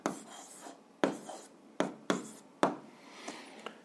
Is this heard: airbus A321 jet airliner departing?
no